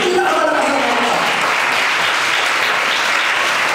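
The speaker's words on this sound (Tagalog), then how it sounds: "Give the Lord the best clap offering." A church congregation breaks into loud, continuous clapping as a praise offering during a sermon, a dense wash of many hands with a faint voice trailing off at the very start.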